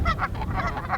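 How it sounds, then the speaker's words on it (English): Migrating geese honk beside a spring pond that had dried out the previous fall, several loud, close nasal calls repeating in a quick rhythm with no voices. "The first birds of the new season, they're already here."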